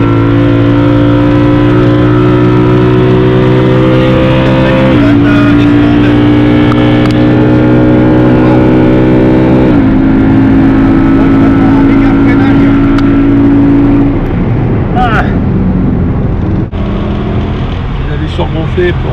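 V8 engine of a BMW M3 E92 on a wet track, a loud, sustained droning roar whose pitch climbs in steps as it shifts up through the gears, rough and close throughout, with a passenger talking over it.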